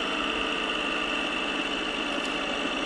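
A Moto Guzzi V7 Stone motorcycle engine runs at a steady idle on a wet paved forest road after rain, a constant, even drone with no speech over it.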